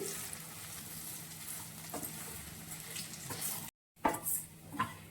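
Chili powder and turmeric frying with curry leaves in a pan for red chutney: a soft, low sizzle with occasional spoon taps and scrapes, brief cut of silence, then a couple of louder scraping knocks, close and without talk.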